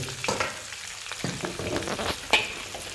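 Chilies and amla frying in a kadai while being stirred, close crackling sizzle broken by several sharp scraping clatters of the spoon against the pan, without talk.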